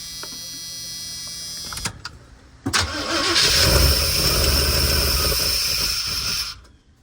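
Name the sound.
4x4 van engine starting and revving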